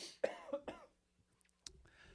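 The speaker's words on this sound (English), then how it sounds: "I'm going to cough" Two or three short, close coughs from one person in a quiet room, followed by a soft breath.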